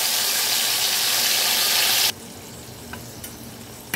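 Ginger, tomato and green chili paste hits a hot pan for a fish curry, giving a loud, hissing sizzle for about two seconds that then drops to a quieter simmer with a few faint clicks.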